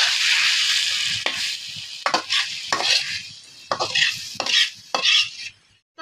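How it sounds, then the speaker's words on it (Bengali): Fried taro stolons being scraped and lifted from a pan into a bowl, a few sharp metallic scoops and clinks over fading sizzle, close and alone. "এবার এইগুলো আমি একটা বাটিতে উঠিয়ে নিব।"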